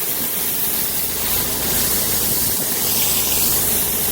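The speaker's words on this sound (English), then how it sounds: "Got the new surface cleaner." A new pressure-washer surface cleaner works across a driveway with a constant loud hissing spray over an engine drone, steady throughout.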